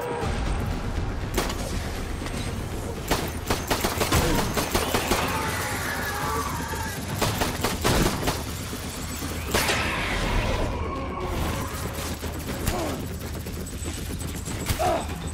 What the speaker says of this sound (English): What is shooting at me?